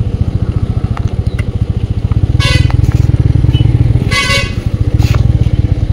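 Motorcycle riding through busy traffic on a long road journey, its engine putting steadily up close while vehicle horns blare in two loud bursts from passing cars and trucks.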